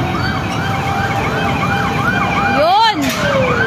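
A fire truck siren arrives at a building fire on Kitanlad Street in Tatalon, Quezon City, wailing in a loud, steady rising-and-falling cycle, then sweeping sharply up and down at the end as the truck passes close by, over street noise.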